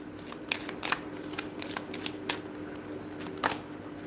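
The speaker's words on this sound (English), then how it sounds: "I pull again because I wanted to see if I shuffle right" Tarot cards are shuffled by hand close up, with repeated crisp riffles and taps at an irregular pace over a low steady room hum.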